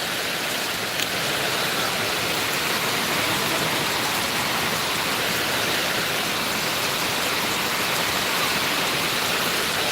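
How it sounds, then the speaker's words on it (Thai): Heavy rain that has been pouring for two hours falls as a dense, unbroken hiss, loud and even throughout, with no voices over it. "สองชั่วโมงแล้วฝนยังไม่หยุดเลย"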